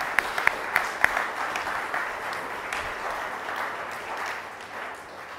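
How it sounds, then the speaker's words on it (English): Audience applauding an orchestra at a concert at Clube Vasco, a sustained wash of clapping with a few sharp individual claps at the start, steady then gradually fading. "So let's give them another round of applause."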